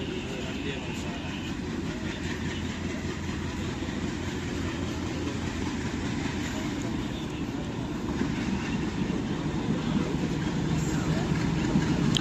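A goods train rolls past near Alappuzha, its steady close rumble and rattle of wagons filling the scene and swelling slightly louder toward the end.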